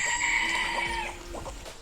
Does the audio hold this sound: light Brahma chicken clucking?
yes